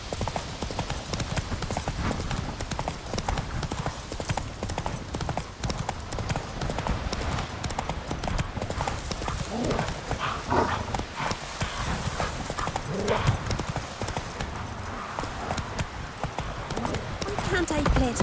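Hooves of Geralt's horse Roach in The Witcher 3 clip-clop at a steady, continuous trot, with a whinny at one point and a voice talking over the game audio throughout.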